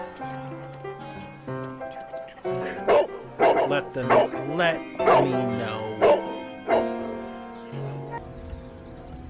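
Dog Toby in a Sherlock Holmes video game gives a string of sharp barks and whimpering yelps, loud and close with pauses between, alongside harmonic game sounds and a brief spoken voice.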